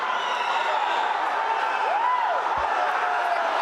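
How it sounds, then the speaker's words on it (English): Crowd at an Asian championship wrestling match, a loud, constant roar of cheering that fills the arena with no break, with a commentator talking over it. "This crowd is going insane in here."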